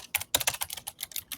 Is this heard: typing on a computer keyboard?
yes